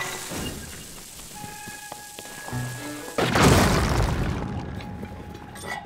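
A bomb explodes in Zelda: Tears of the Kingdom with a sudden loud, broad burst that fades out slowly, following quieter game tones and small clicks.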